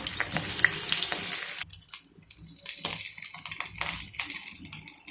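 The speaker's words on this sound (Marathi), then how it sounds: "आता हे तुकडे आपण क्रिस्पी होईपर्यंत छान असे तळून घेऊयात." Leftover idli pieces deep-fry in hot oil until crispy, a steady bubbling sizzle near and moderately loud, briefly dipping quieter midway before the frying hiss returns.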